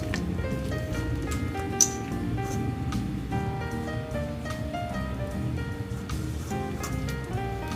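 Puppy chow (muddy buddies) mix being stirred in a bowl, a steady soft rustling and scraping that carries on without a break.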